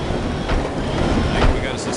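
Steady rumbling rattle of a passenger train rolling along in the No One Lives Forever video game, a loud continuous clatter with faint rhythmic clicks and no break.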